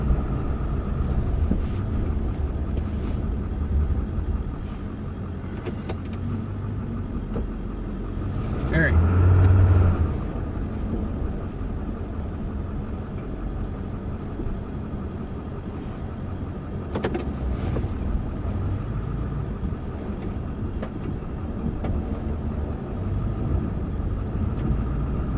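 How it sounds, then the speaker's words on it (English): A passing car swells briefly around a running F250 7.3L snow plow truck in winter, under steady engine drone and wind buffeting, while someone talks over the rumble. "here comes a car. I was just about done. I'll let him squeeze by"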